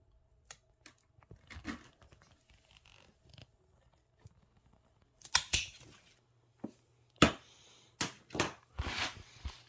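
Shears cut through the lower part of a fig plant with a series of sharp, crisp snips, faint rustling at first, then several louder separate cuts close by in a quiet room.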